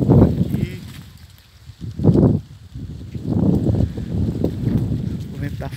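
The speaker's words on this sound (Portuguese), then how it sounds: "O vento tá forte, vai pegar," Strong wind blows into the microphone outdoors, producing loud low rumbling gusts that rise and fall in waves for several seconds.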